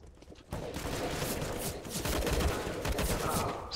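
Rapid, dense bursts of gunfire from the game Counter-Strike: Global Offensive, loud and continuous after a short quieter start, with no talking.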